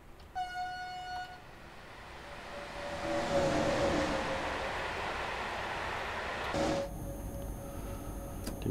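A DB Schenker freight train in Train Sim World 4 rolls past with a steady rumble of rail noise that swells and holds, marked by horn toots near the start and again near the end.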